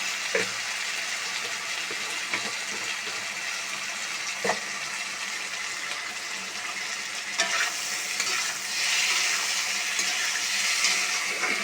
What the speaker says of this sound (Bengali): এখন এটা ভেজে নিয়ে তারপরে সামান্য পরিমাণে চিনি দেওয়া হবে